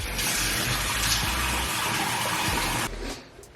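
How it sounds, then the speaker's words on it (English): Warm tap water runs steadily into a bathroom sink during a nighttime face wash, a loud broadband rush with low splashy thumps that cuts off near the end. "when you go to wash your face, I really recommend doing hot water"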